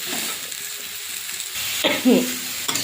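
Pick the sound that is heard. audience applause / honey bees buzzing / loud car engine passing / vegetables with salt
vegetables with salt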